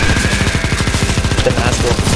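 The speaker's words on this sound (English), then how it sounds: "The Nazgul in the front. Shoot it, shoot it." Rapid automatic gunfire in a CS:GO Zombies round, aimed at a Nazgul, a steady close machine-gun rattle of evenly spaced shots filling the short stretch, loud and continuous.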